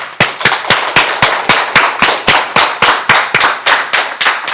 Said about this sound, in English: We use clapping.